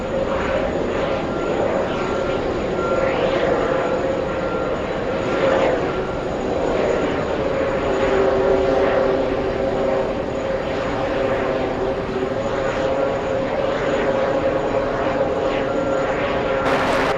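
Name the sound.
Lufthansa Airbus A340-300 taxiing to the runway at JFK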